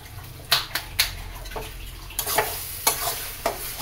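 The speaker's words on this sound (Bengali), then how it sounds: "এটা ততক্ষণ আরও 5 মিনিট কষাতে হবে কাসুরি মেথিটা দিয়ে।" A curry is sautéed in a pan with crushed kasuri methi, giving a quiet sizzle under sharp, irregular spatula scrapes and knocks against the pan, close by and without speech.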